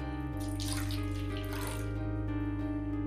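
Water pours steadily out of a rinsed jar into a kitchen sink, a continuous splashing gush heard up close and alone for about three seconds.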